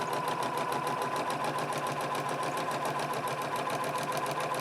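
A sewing machine runs a basic straight stitch slowly through a muslin swatch, a steady close mechanical whir and rapid needle patter holding at an even level throughout, with no voices.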